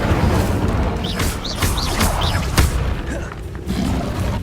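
A fire spell goes off in the Hogwarts Legacy video game, a dense rumbling whoosh with booming thumps and sharp bursts, loud and continuous, backed by game music and other effects.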